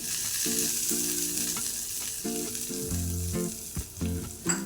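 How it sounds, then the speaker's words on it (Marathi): A loud burst of sizzling as a hot tempering of oil is poured onto coconut chutney, crackling and hissing steadily with a few sharp spits, alone with no talking. "फोडणी तयार झालेली आहे आता आपण या चटणीवर घालून घेऊ"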